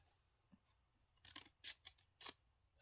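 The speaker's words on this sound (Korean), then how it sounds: "중간 정도 해서 적당하게 가위집을 넣어주시면 돼요" Scissors snip notches into paper flower petals during a craft project: a few quiet, close, crisp cuts, sparse at first and then several sharp snips in quick succession, with no talk.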